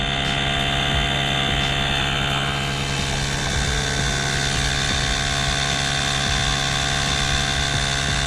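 An OASSER P1 mini portable air pump runs continuously, a steady, close, loud motor drone with a high whine that holds without pause throughout.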